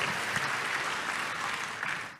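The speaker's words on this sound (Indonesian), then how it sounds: "Tepuk tangan yang paling meriah buat Tuhan" Enthusiastic audience applause at a church sermon, dense and continuous clapping from a congregation that fades out at the end.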